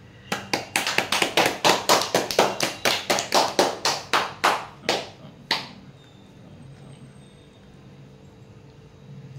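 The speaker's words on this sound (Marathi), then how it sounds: "चला, जोरदार टाळ्या वाजल्या पाहिजेत आपल्याच।" Hands clap for a celebration of passing an English Marathon competition: around twenty close, loud, evenly spaced claps in a steady rhythm, stopping after about six seconds and giving way to quiet room tone.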